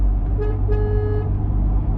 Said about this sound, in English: It's to honk at bicycles that might be in your way, give them a little toot.